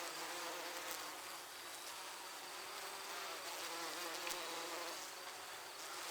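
Bees near a hive in the Bay of Fundy region hum in a steady, continuous buzz, soft and distant throughout with no voices.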